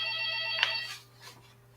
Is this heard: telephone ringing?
yes